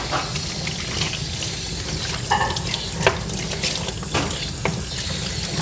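Running water from a grooming tub sprayer rinsing shampoo out of a Coton de Tulear dog's coat, a steady close hiss of flowing water with occasional splashes and shifts as the stream moves.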